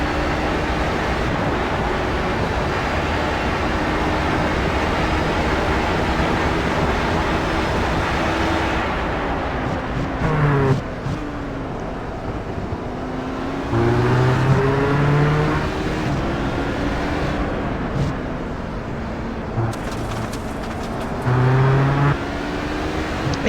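Onboard engine drone of an HPD prototype race car at Road America in iRacing, droning steadily and loudly throughout, with pitch shifts as it slows and accelerates through corners.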